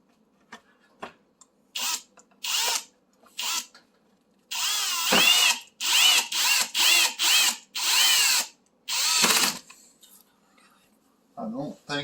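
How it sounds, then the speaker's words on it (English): A power drill drives four screws into a part of a Frigidaire stove being repaired for an F20 error code, a series of close, loud whirring bursts of varying length separated by brief pauses, with some voice between them. "I'm just going to put these 4 screws in here"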